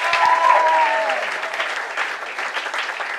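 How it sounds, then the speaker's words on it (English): A comedy club audience at The Stand bursts into loud, continuous applause, many hands clapping at once, with a voice speaking over the clapping early on before the crowd carries on alone. "another round of applause for Bruce"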